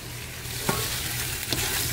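A mango shrimp sauté sizzles steadily and loudly in a pan while a spoon stirs it, with two sharp scraping knocks in a continuous frying hiss; no speech.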